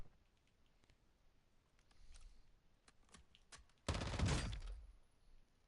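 Gunfire in the Call of Duty DMZ video game: a few faint scattered pops, then a sudden loud close burst of shots lasting about a second and a half. The burst is followed by quieter rattling.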